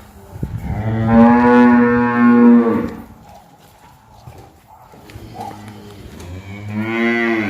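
A Holstein Friesian cow moos twice: one long, deep, drawn-out call, a short quiet pause, then a second moo starting at the end.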